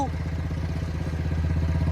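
A Swaraj 735 tractor engine runs at a steady, close idle in a potato field at sowing time, with a trolley hitched. It gives a continuous low, even rumble with a faint rhythmic clatter.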